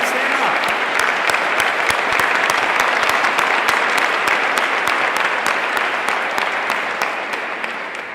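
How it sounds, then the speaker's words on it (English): Loud, dense audience applause at a nonprofit awareness day event, a sustained roar of many hands clapping close and steady for about eight seconds before easing slightly at the end. "I want to give him a huge round of applause"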